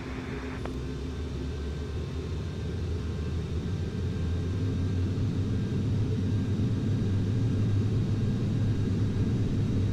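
A Boeing 737-800 in Delta livery on its takeoff roll in the FSX flight simulator, a low, steady engine roar that builds gradually in loudness with no talking.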